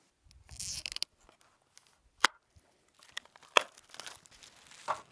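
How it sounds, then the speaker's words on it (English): A small pocket knife slits and tears the plastic film off a Veeniix V11PRO drone box. A close, crinkly rip comes first, then a few sharp snaps and crackles with pauses between them, and no one talks. "The first step is to take the plastic film off the box with a small pocket knife."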